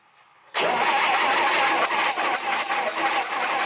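An old truck engine, left sitting unused for 32 years, cranks and catches abruptly. It settles into a loud, rough running note with pulsing unevenness, heard close with no talking.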